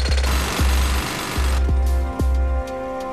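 A jackhammer carves rock for a mountain memorial, hammering loudly and close in rhythmic bursts with brief pauses between them.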